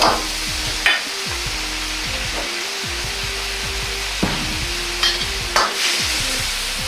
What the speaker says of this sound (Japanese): さらに混ぜ合わせるように炒めます。